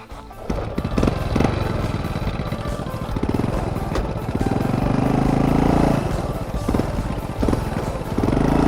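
A motorcycle being ridden, its engine droning loud and steady with shifting revs and rough road rumble, close up throughout.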